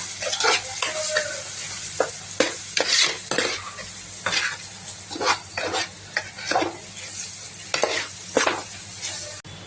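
A spoon stirs turmeric into an Andhra-style fish curry base in a pan, the mix sizzling softly while metal scrapes and clinks come in repeated, uneven strokes; no one speaks.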